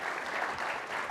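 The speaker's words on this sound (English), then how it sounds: "Give them a round of applause." An audience at a corporate finance panel applauds as panelists walk on stage: a brief, dense, continuous spatter of many hands clapping at a steady moderate level, heard on its own without talk.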